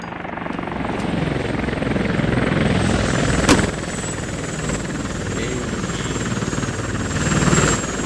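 Military helicopter landing in the video game Squad, with a loud, steady rotor chop and engine whine filling the whole stretch and a few brief clicks on top, no voices.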